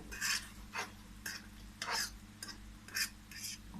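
Egg fried rice is stirred in a pan, a spatula scraping and swishing in short rhythmic strokes about twice a second, quiet and close, over a faint low hum from the stove.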